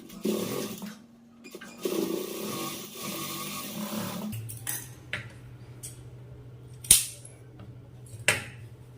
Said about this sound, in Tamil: கிளாத்தை திருப்பிட்டு மேலே டாப் ஸ்டிச் போட்டுக்குங்க